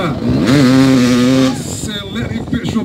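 An enduro motorcycle accelerates hard at a Limoeiro do Norte enduro event, a loud rising engine whine for about a second and a half that then drops back under an announcer's voice.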